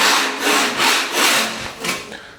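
A scraper dragged at an angle across an epoxy floor surface, giving five or six rough rasping strokes in a steady back-and-forth rhythm, loud and close, with no talk.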